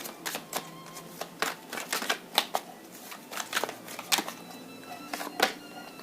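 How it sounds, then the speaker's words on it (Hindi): A deck of tarot cards being shuffled by hand, giving a run of quick papery riffles and soft flicks in uneven bursts, close and clear with no talking over it. "okay let's shuffle the cards for one more time"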